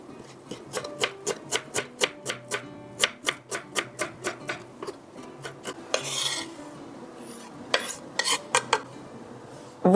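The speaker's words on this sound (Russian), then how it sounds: "Мелко порежу небольшой пучок укропа." A knife finely chopping a small bunch of dill on a cutting board, a quick regular series of sharp taps, near and crisp, pausing briefly for a rustling scrape before more chops.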